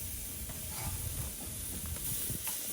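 Tri-tip steak searing on a grill, giving a steady close hiss and sizzle with faint clicks and taps, and no talking.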